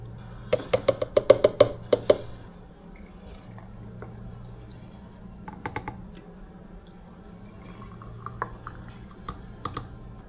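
Juice from six calamansi is squeezed by hand into a jar, making a quick run of close, crisp drips and splashes at the start, then a few scattered drops and small clicks over a steady low hum.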